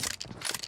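A shotgun reloads in PUBG Mobile during a team deathmatch, with a quick run of mechanical clacks and ratcheting clicks that is short and moderately loud and has no speech over it.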